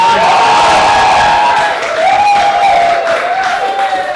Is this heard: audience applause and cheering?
yes